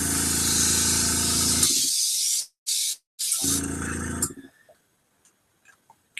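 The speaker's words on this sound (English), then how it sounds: "We are just doing a little bit of airbrushing at the moment." An airbrush sprays paint in bursts: a loud, close hiss runs for a couple of seconds, cuts out, briefly returns in short spurts, then sounds once more before fading into near silence.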